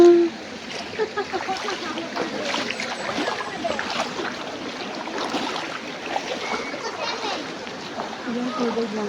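Water splashing and sloshing at an adventure park, a steady busy wash of splashes with children and adults talking throughout.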